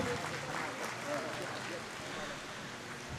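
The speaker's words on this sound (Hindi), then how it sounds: "एक बार जोरदार तालियां हो जाए संजय उर्फ बंडू जादव साहब के लिए" An audience applauds Sanjay alias Bandu Jadhav at an All India Memon Jamat Federation council meeting, moderate clapping under a busy room with voices.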